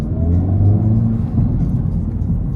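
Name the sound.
2024 Acura Integra Type S engine induction noise while driving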